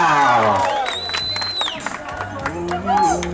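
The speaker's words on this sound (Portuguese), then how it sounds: "Palmas pra Maria!" A lively crowd applauds and cheers for Maria, with clapping, whoops and whistles mixed with overlapping voices, all close and fairly loud.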